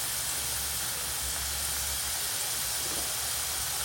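French fries in a cornflour coating frying in hot oil, a steady close hiss of bubbling and crackling that runs without a break under a low rumble.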